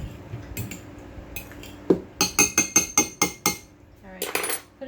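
Cooked macaroni and shredded cheese are stirred together in a bowl. A metal utensil knocks against the sides in a quick run of sharp, rhythmic clinks and scrapes, close and clear, with no one talking.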